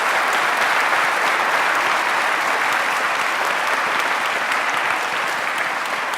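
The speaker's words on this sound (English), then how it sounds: "Give them a round of applause." Sustained applause from a church congregation, a thick, even wash of many people clapping that holds steady before easing slightly near the end.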